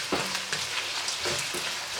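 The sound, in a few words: ackee and saltfish sizzling in a pot while stirred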